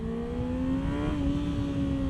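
A 2026 Kawasaki Ninja ZX-6R inline-four motorcycle engine, just downshifted into first gear while riding, holds a high, steady rev with a slight rise and dip in pitch over loud wind and road roar.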